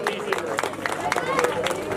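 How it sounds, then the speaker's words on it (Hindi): An audience at a temple event honouring guests breaks into applause, a dense patter of clapping mixed with crowd noise while a voice keeps talking over it. "कृपया जोरदार तालियों के स्वागत।"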